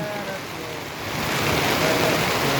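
Steady heavy rain during a storm at a construction site in San Carlos roars as a dense, continuous wash of noise, swelling slightly louder partway through, with no voices.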